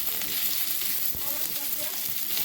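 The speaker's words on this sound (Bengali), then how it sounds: "মাছের তেলটা ভাজি করি আগে" Fish frying in hot oil makes a dense, steady, close-up sizzle that stays constant in loudness throughout, with a faint tap partway through.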